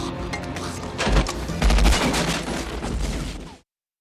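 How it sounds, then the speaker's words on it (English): Heavy gunfire from the action film The Rock, with dense bursts of automatic shots rattling over a loud scene and a strong low boom near the middle before everything cuts to silence. "As Mason and Goodspeed take cover from the second soldier's gunfire"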